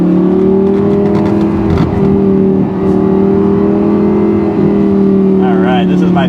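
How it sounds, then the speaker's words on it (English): A Lamborghini's titanium exhaust drones loudly and steadily up close, its engine pitch climbing slightly as it pulls forward. "this car does have a titanium exhaust"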